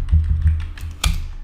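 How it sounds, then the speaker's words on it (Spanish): Typing on a computer keyboard at a desk while working in Houdini 18, with a few close, distinct key taps spaced irregularly and one sharper clack near the end. "tengo el teclado delante y joder, qué mal escribo"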